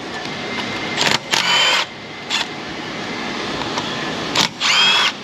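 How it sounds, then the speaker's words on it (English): Ratchet bursts spin out the ignition coil bolts on a 1994-2004 Ford Mustang GT 4.6 coil bracket, several short loud clicking runs separated by pauses, near and clear, with no talking. "We're gonna go ahead and unbolt the coil from its bracket"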